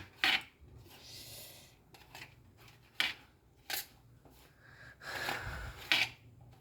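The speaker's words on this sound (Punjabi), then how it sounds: "ਕਿਨਾਰੀਆਂ ਕੱਟ ਲਾਂਗੇ ਆਪਾਂ ਬ੍ਰੈਡਾਂ ਦੀਆਂ ਐਸ ਤਰ੍ਹਾਂ ਕਰਕੇ" A knife trims the crusts off bread slices at home, giving several short crisp crunching cuts spaced a second or so apart with quieter scraping between them, close up and without speech.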